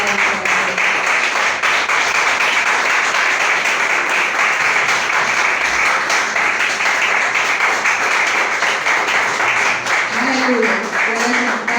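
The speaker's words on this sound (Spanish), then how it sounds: "Denle ese fuerte aplauso" Loud, sustained applause from a church congregation at an evening service, steady dense clapping throughout with some voices rising near the end.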